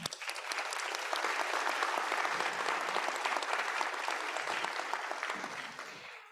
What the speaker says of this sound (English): Graduates, please give your families a round of applause.